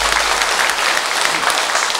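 A church congregation gives loud, dense applause to welcome visiting tourists, the clapping sustained and close throughout.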